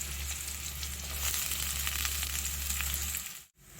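Sliced onions hitting hot oil in a pan for karamani kara kulambu, giving a loud, continuous close sizzle with crackle that cuts off abruptly near the end, no talk.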